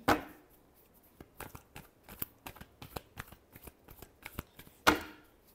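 Tarot cards are shuffled in a run of crisp, rapid riffles and flicks, with sharper bursts at the start and near the end, close and fairly quiet with no talking.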